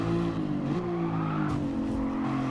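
Nissan GT-R race car in the GT Sport racing game sliding through a corner, engine note droning under a sustained tire squeal and skid for a couple of seconds, with no talk.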